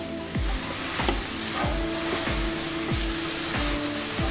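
Gongura leaves fry without oil in a pan on high flame, a steady sizzle broken by regular stirring clacks about every half second, close and fairly loud.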